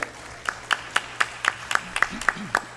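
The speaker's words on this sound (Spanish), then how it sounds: "Fuertes palmas también para él" At an education seminar in Lima, a small audience gives a brief round of applause of evenly spaced claps, fairly close, with a low voice murmuring near the end.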